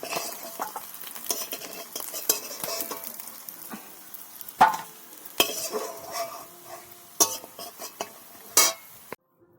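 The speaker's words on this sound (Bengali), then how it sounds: "এরকম ভাবে কড়া করে ভেজে নেব" Fish frying crisply in hot oil, a close, steady sizzle broken by stirring and sharp clinks and scrapes of a metal utensil against the pan.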